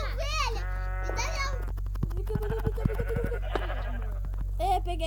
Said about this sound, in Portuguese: Olha, Gabriel, me dá minha ovelha.